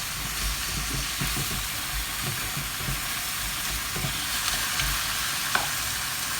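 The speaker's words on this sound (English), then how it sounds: "So you want to stir that parsley in." Parsley being stirred through rice in a hot pan, with a steady broadband sizzle of frying underneath and soft, irregular scrapes and bumps of a utensil; no voices.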